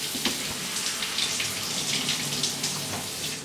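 Tap water runs into a container sitting in a kitchen sink, a steady, close, hissing splash that carries on without pause, with no talking.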